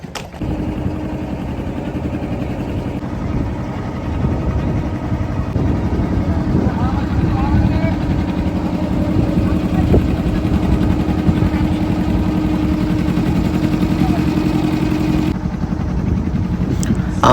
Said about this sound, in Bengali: আর আমরা যাব ওই যে একটা পিছনে বোট আসছে